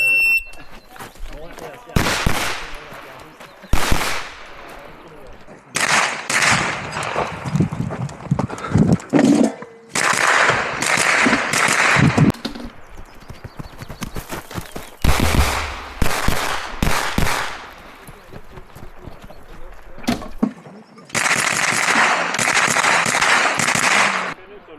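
Rapid strings of sharp, loud shots come from a pistol caliber carbine on an IPSC match stage, fired in bursts separated by short pauses for movement, with several clustered volleys over about twenty-five seconds.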